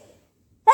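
A single sharp sneeze bursts out suddenly after near silence, loud and close at the very end.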